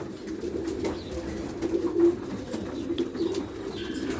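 Racing pigeons coo softly and repeatedly nearby, low throaty calls rising and falling over faint background noise.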